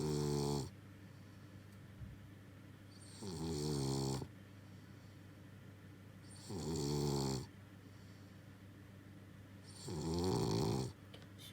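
Borka, a pet boar, snores quietly in four slow, evenly spaced rasping breaths, each lasting about a second, with near-silence between them.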